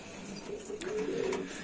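Breeding-loft pigeons give a soft, low cooing phrase that swells midway and then settles, heard close over a faint room hiss with no speech.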